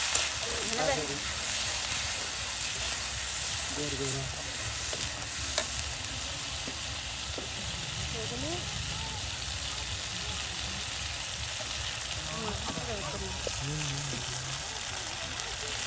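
Spices, onion, potato and quail meat fry in oil in an outdoor village kitchen, giving a steady soft sizzle with occasional stirring scrapes, while a voice talks intermittently over the cooking.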